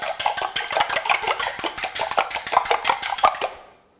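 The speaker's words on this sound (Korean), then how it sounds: "계란을 잘 퍼주시고" Eggs are beaten in a bowl while preparing a beef rice bowl, a rapid, steady clatter of utensil against bowl that continues without talk and then stops.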